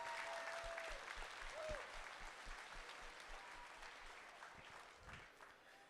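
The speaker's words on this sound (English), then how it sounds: "I just ask you if you give these 4 young people a nice round of applause" Audience applause for four young livestock showmen at a state fair sale of champions in Virginia, a sustained rolling clap from a crowd, moderately distant, with faint voices underneath.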